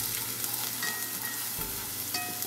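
Garlic and ginger fry in a pan for sinigang soup, a steady close crackling sizzle with occasional stirring clinks, heard alone.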